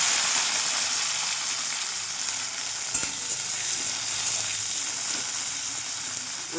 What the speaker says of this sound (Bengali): ক্যাপসিকামগুলো আগাম তেলে একটু ভেজে নেব